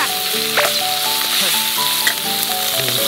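Food sizzling in a hot copper-handled pan over an open fire, giving a dense, steady hiss with faint clinks from cookware and occasional tonal squeaks, with no talking.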